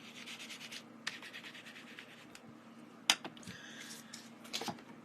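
A rubber stamp being scrubbed clean of mauve ink, soft intermittent rubbing and scratching strokes, quiet and close, with a few sharper scuffs and no talking.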